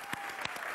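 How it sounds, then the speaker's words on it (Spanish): Audience applause breaks out at the Miss Venezuela 2011 pageant in honour of a national music troupe, a dense wash of clapping with a few louder swells across a brief burst. "¡Fuerte el aplauso!"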